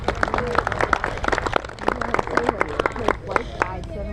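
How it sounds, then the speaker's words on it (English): An audience at a culinary arts meal on an agricultural tour claps, a scattered round of clapping under a speaking voice and crowd murmur. "Let's give them a round of applause."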